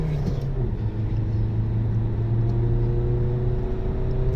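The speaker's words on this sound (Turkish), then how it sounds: "Hemen 5000'i çeviriyor araba." A Renault Megane 2 car engine, freshly rebuilt, revs hard under acceleration, a steady loud drone with rising engine harmonics running continuously close to the microphone, no talking.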